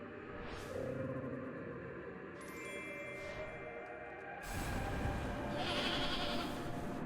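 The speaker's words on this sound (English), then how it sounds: "I hear a goat making noises." A goat in a video game bleats a few times, fairly faint and wavering over a droning ambient background, with no one talking.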